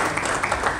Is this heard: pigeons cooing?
no